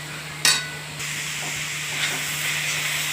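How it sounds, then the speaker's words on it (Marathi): Grated carrot and beetroot being stirred and roasted in ghee in a pan, a soft steady sizzle with a sharp scrape of the spoon near the start and a low hum beneath. "बीट पण असंच गाजरासोबत हलवून घ्यायचं."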